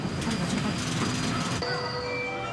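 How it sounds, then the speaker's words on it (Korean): A subway train at a station platform rumbles and clatters for a moment, then thins out into a high metallic squeal and tonal whine as the cars roll past. "지하철을 타기 위해 플랫폼에 들어서는 순간"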